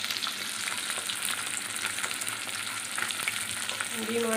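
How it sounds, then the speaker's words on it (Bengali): Eggplant frying in hot oil in a home kitchen, a steady crackling sizzle with fine spattering that carries evenly throughout, close and moderately loud, no speech. "বেগুন একটু লাল লাল ভাজা হয়ে গেলে তুলে নেবো"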